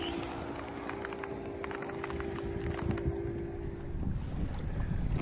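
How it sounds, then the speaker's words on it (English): Sailboat under sail with the motor off, on a broad reach, giving a steady rush of wind and water noise close to the microphone, with no voices. "Motor's off, just the wind moving."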